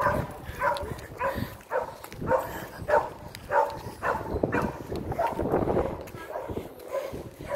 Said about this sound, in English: I hear a dog barking over there.